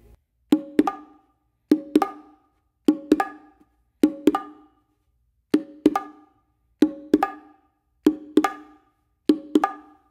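Sharp bongo strokes repeat in evenly spaced pairs, a ringing open hit on the larger hembra drum followed quickly by a second tap, played alone with no talking.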